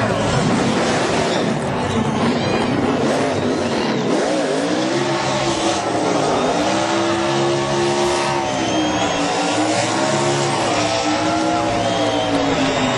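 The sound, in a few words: race car doing a burnout after winning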